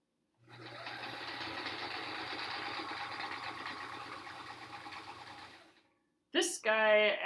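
A sewing machine runs steadily for about five seconds while stitching quilt panels together for a sampler quilt, then stops; after a short silence a voice speaks briefly.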